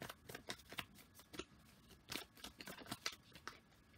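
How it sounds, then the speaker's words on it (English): A deck of tarot cards is shuffled in a series of quick, soft riffling bursts at close range, irregular and fairly faint. "just before I start shuffling the cards"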